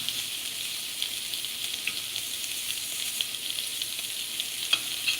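Shrimp sizzle steadily in a hot pan for a dinner for one, a continuous bright hiss dotted with small crackles and pops, close and moderately loud, with no talking.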